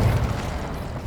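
A short, loud whooshing burst of fire from the Incendio spell in Hogwarts Legacy, a dense low roar that fades quickly over about a second.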